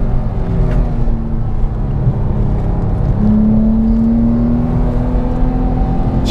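Porsche 997 GT3 with a naturally aspirated engine and manual gearbox, driven in second gear on a hairpin: a loud, steady in-cabin engine drone with a rising tone as revs climb.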